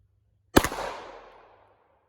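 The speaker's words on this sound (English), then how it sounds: "Can't tell if I hit it, so we're gonna shoot again." A single sharp gunshot fired at body armor during a penetration test, one loud close crack followed by a decaying echo that fades out over about a second.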